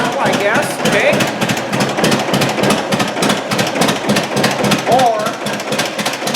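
A loud, close 1943 John Deere Model B tractor engine chugging with a rapid, steady knocking beat, running continuously throughout with a voice faintly heard over it.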